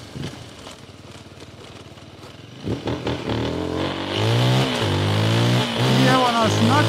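A 2025 Rieju 307 Aventura Rally adventure motorcycle ridden outdoors: its engine is heard up close, rising and revving with a rattly clatter as it picks up pace, with someone talking over it.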